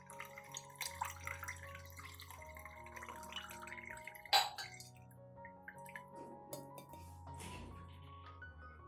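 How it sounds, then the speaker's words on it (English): Coffee-ground liquid is poured slowly through a sieve, producing faint close drips and trickles with occasional light clinks of the strainer against a container. "I use a sieve to remove the coffee grounds, keeping only the clear liquid."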